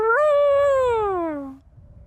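A voice imitates the call of a baby North African eagle with a single loud, sustained, tonal wail that slowly falls in pitch over about a second and a half before stopping.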